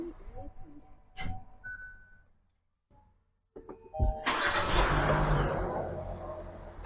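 A Kia Mohave car engine starts after a few clicks and a brief silence, then settles into a steady, loud idling rumble.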